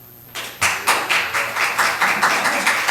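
Audience applause at a city commission meeting in Ocoee: steady, moderately loud clapping that starts abruptly and continues with a pulsing rhythm of many hands.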